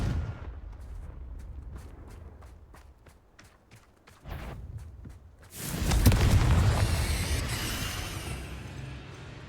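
A Confringo spell in the game Hogwarts Legacy erupts into a loud, rumbling fiery blast that swells and lingers for several seconds, preceded by a rapid series of sharp, quieter taps, with no voices.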